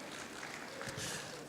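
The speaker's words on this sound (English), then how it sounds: "Round of applause once again for Bwana Omoyo." Crowd applause at a Kenyan film summit, a dense, moderately loud burst of clapping, swelling slightly toward the end.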